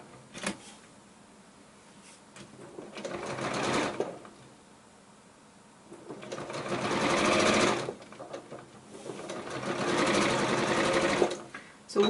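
A sewing machine stitches quilt pieces together along gentle curves, running in three sustained bursts that each last a few seconds, with quieter pauses between them and a voice talking throughout.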